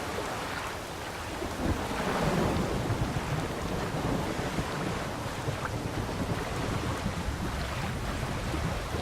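Storm and high seas in The Witcher 3, heard while sailing a boat: steady wind and rushing water with rumbling surges, a broad, continuous roar with no voices.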